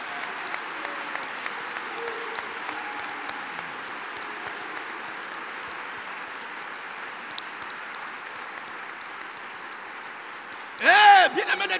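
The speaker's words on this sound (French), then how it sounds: "On acclame le Seigneur Jésus-Christ." A church congregation at a worship service applauds steadily and at length, a dense, even wash of clapping, with a brief louder burst near the end.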